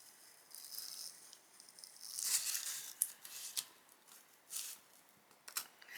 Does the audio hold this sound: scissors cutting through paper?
yes